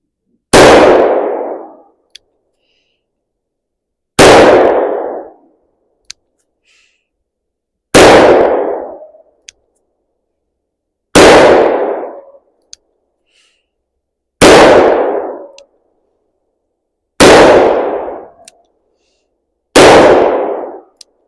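A Taylor & Co .357 revolver fires seven 125-grain rounds at an outdoor range. Each loud, sharp shot is followed by a ringing echo, and the shots come at slow, even intervals of about three seconds.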